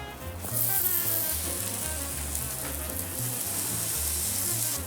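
Australian wagyu chuck short rib grills in a steady, loud sizzle with bright fat crackle and spitting, continuous throughout.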